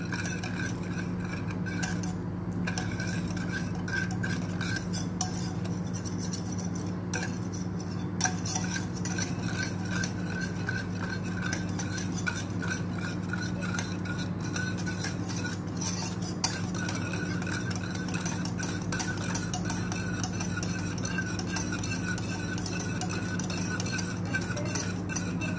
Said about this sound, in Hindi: ये देखिए, लो फ्लेम पे मैंने इसको रख दिया है और साथ साथ आपने मिक्स करते रहना इसको